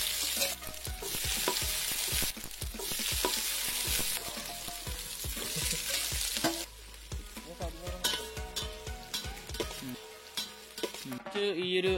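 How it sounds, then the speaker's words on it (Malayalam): Sliced onions tipped into a hot oiled pan crackle and sizzle loudly and steadily, with stirring scrapes and clinks of a spoon against the pan throughout, easing slightly toward the end. "ഇനി ഇതിനകത്തോട്ട് ഞാൻ ഈ ഒരു രീതിയിൽ മുറിത്തടിച്ച് വെച്ചിരിക്കുന്ന സവോള നമ്മൾ ചേർത്ത് കൊടുക്കാം"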